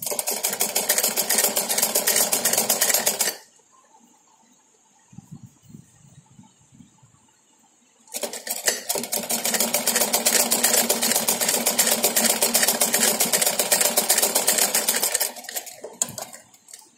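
A sewing machine stitches a double-layer cloth mask in two long, loud runs of rapid needle chatter, broken by a quiet pause with soft handling of the fabric and a brief final burst.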